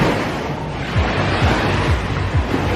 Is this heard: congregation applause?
no